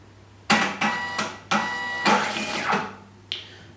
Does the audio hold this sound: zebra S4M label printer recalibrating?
yes